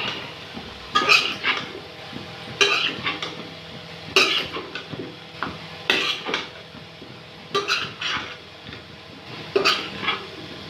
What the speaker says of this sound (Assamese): আৰু লগতে এড কৰিম কাটি থোৱা আলুখিনি এতিয়া লৰাই দিম অকমান